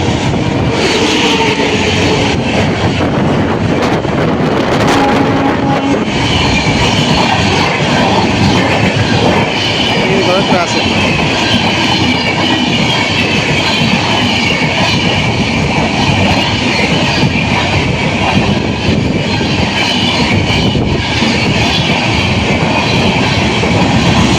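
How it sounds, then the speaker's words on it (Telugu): A superfast express train roars past close by, with a steady loud rumble and rattling wheels that continue without a break and no voices. "ఈ సూపర్ ఫాస్ట్ ఎక్స్ప్రెస్ చూస్తున్నారు కదా, దూసుకెళ్తున్నటువంటి"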